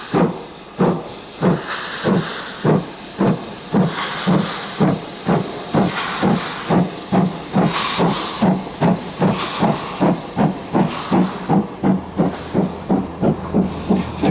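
GWR Hawksworth County class steam locomotive County of Hereford, on the joint Welsh Marches main line, chuffs in a steady, evenly spaced rhythm of loud exhaust beats over a continuous background hiss of steam.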